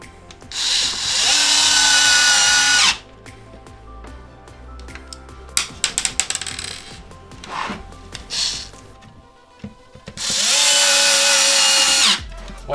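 Electric screwdriver driving the last two screws into the top cover of an Xbox One X console during repair, two loud whirring bursts of about three seconds each, separated by clicks and handling noises.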